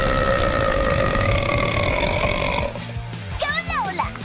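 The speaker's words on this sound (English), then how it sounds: "Go Lola! Biggest burp!" A cartoon girl lets out a long, loud burp during a burping contest, a sustained rumbling belch, followed by a short excited voice cheering.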